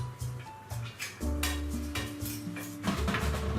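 Chicken being stirred in a pan, with repeated metallic scrapes and clinks of a utensil against the pan over a low steady hum, close and busy, with no talk.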